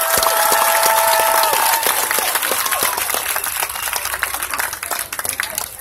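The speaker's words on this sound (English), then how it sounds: "Please give a great big round of applause for the Dow Chemical Company." A festival audience applauds a sponsor with loud, dense clapping that starts at full strength, carries a few brief whistles early on and gradually thins out.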